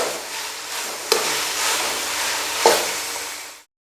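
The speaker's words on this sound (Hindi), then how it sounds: "थोड़ी देर इनको चम्मच चलाने के बाद हम इसको हल्के से दम पे रख देंगे।" A spoon stirs arbi (taro root) curry in a pot, making a steady wet scraping and sizzling texture with two sharp clinks of metal against the pot, close and alone.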